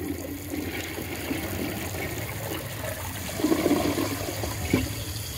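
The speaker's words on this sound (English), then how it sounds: "Might as well give this a second flush just to get all that stuff out." A Cadet toilet being flushed a second time, a steady rushing of water into the bowl with gurgles and trickles rising toward the end, heard up close.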